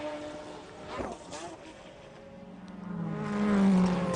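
Race cars at the 1997 Le Mans 24 Hours, a privately entered McLaren just ahead of Mario Andretti's Courage, roar past with engine notes swelling louder and nearer toward the end.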